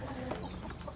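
Broody hens clucking in a farmyard nesting crate, a steady run of close, busy clucks filling the whole moment with no talk.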